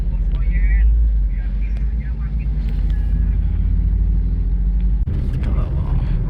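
A car idles and creeps in a stalled traffic queue, a steady low engine rumble heard from inside a vehicle with people talking throughout.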